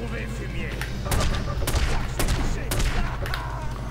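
Gunfire from a weapon in The Godfather video game, several loud sharp shots at irregular intervals over a background rumble, close and prominent.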